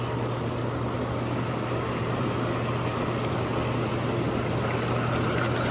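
A hot tub's waterfall feature pours water in a steady, even rush, with a low constant pump hum underneath and no voices.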